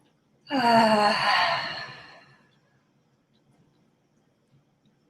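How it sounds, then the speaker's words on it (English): One long, deep breath drawn in during a yoga session, a breathy rushing sound swelling for nearly two seconds and fading into near silence. "big breath in"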